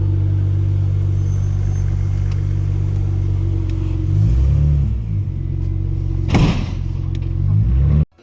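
BMW 335i on a test drive, with a loud, close engine rumble that rises as it revs and accelerates, a brief sharp knock partway through, then cuts off abruptly at the end.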